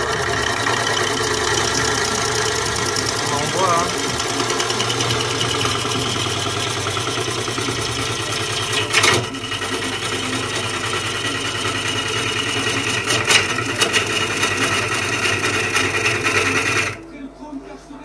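A wood lathe turns a cherry wood bowl after its speed is raised, giving a steady, loud mechanical whine and hum that runs continuously before cutting off abruptly near the end.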